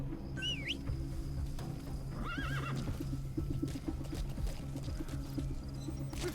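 A horse in Metal Gear Solid V: The Phantom Pain whinnies twice, a shrill rising neigh followed by a wavering one, over trotting hooves and a low ambient game backdrop.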